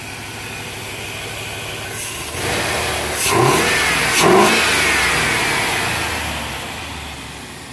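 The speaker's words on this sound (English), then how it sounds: "So here's a clip of the car just idling in the driveway for the first time after I got it started." A turbocharged, LS-swapped Crown Victoria Police Interceptor sits idling in a driveway on the stock cam, a steady close engine rumble that swells with two brief blips of revving partway through before settling back.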